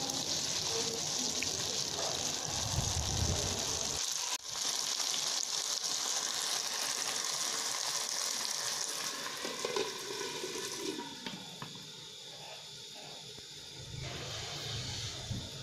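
Potatoes cook in a small amount of water in a skillet over medium heat, giving a steady, close hiss of bubbling and sizzling that runs throughout without any talk.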